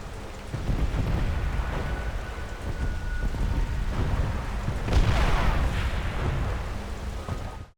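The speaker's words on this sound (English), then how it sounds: "It's the rain, sir," Video game rain and thunder: steady heavy rain hisses throughout while thunder rumbles low, with a louder crackling roll near the end before it cuts off.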